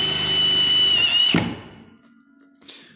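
Power drill driving self-tapping screws straight into metal while assembling a floor-to-ceiling metal wine rack frame; a loud, steady whine runs for over a second and stops abruptly with a thunk, then near-quiet.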